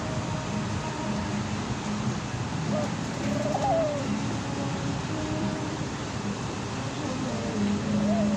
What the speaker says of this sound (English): There's some nice pretty birds here.